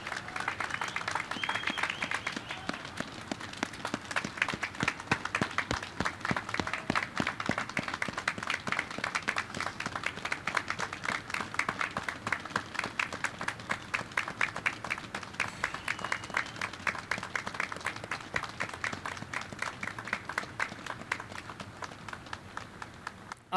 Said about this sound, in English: please give them a round of applause and recognition for their hard work, dedication, and service to this great nation